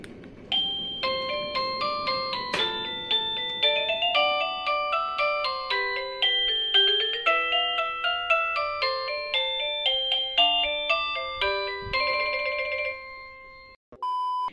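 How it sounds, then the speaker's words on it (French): A newly bought doorbell chime plays a bright electronic melody of many quick ringing notes for over ten seconds, loud and clear with no voices, then stops. "écoutez la sonnerie que j'ai sélectionnée"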